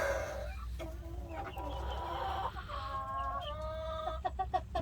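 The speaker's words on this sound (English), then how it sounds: "These are all meat roosters." Meat roosters, including a dark Brahma, cluck in a dirty coop on a rainy day, with repeated close clucks and squawks from several birds over steady rain-like background noise.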